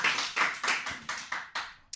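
A live studio audience clapping in a church, a few rhythmic bursts of hand claps in steady succession, close and fairly loud, with no talk.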